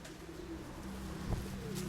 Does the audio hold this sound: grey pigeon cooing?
yes